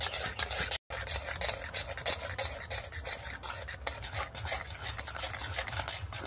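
Ripe mango being mashed and stirred with three spoons of sugar in a bowl, giving a close, continuous wet scraping and squelching with rapid repeated strokes, no talking.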